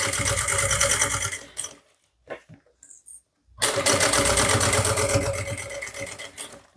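A sewing machine stitching a fabric bag at stitch length 3.5 runs in a loud, fast, steady whir close by, stops for about two seconds with small handling sounds, then resumes a continuous run.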